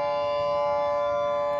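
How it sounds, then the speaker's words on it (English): A steady, sustained tornado siren wail holds one pitch throughout at night, loud and constant with a faint low rumble beneath. "I hear a siren at night."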